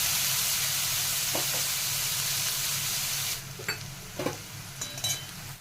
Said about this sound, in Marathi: हा कांदा साधारण पाच मिनटं तरी स्लो गॅसवर छान असा परतून घेणार आहोत